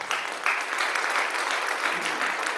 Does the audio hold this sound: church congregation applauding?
yes